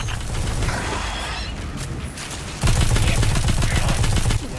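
Dense rapid gunfire from Destiny 2, loud and continuous, growing heavier partway through with sustained automatic bursts.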